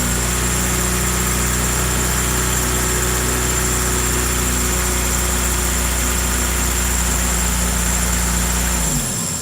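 A car engine idles smoothly and steadily with no ticking, a close, continuous hum that runs alone until it is switched off and winds down at the end.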